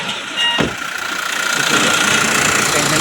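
Mahindra Xylo car engine running just after starting, once a relay fault has been fixed: a brief rising burst gives way to a steady, fairly loud close idle with a mid-pitched hum.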